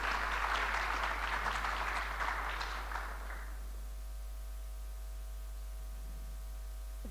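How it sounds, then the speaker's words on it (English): Applause from the audience at the Cape Mental Health annual general meeting, a loud, dense wash of clapping for roughly three seconds that fades out, leaving only a steady electrical hum. "Please give him a hand of applause."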